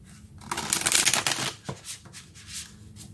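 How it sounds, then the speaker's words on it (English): A deck of tarot cards is riffled and shuffled close by in a brisk burst of flutters and soft slaps, followed by a few lighter card taps, with no talking. "Okay, let's get some cards and see what we find out."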